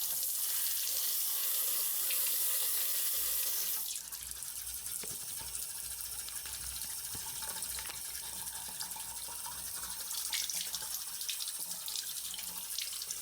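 Running water streams steadily from a tap over a roller blade bearing being rinsed, a constant close hiss that shifts in tone partway through as the flow strikes the part.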